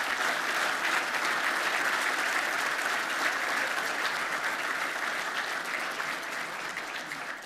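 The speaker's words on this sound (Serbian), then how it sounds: "Zamolim bih sve prisutne za jedan prekoredni aplauz večeras za te reprezentativce i reprezentative." An audience at a celebration of the Serbian Handball Federation's 75th anniversary applauds warmly and continuously, a dense, even clapping that holds steady for several seconds and tapers slightly at the end, with no voices.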